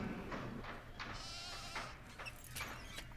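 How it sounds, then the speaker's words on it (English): Sheep bleating in the Nancy Drew: Haunting of Castle Malloy video game, several wavering cries in a row, fairly faint, over a soft background of game sound. "Why can't we get some happy sheep in here?"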